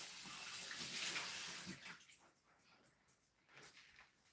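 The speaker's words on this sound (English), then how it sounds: "let me rinse my hands off one more time" Running tap water splashes over hands in a sink, a steady rush for the first two seconds, then breaks into scattered, softer splashes and drips.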